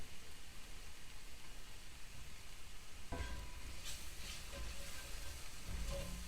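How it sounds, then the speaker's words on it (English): Food stirred in a hot pan with butter or ghee for a holiday dinner, giving a steady sizzle with scraping stir strokes that grow louder partway through, close and without talk. "And just stir this around and cook it for about a minute or so."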